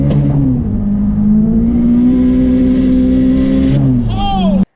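The camp dog car's engine roars hard under heavy acceleration, its loud, close drone climbing steadily in pitch before dropping back, with a faint whine rising at the end.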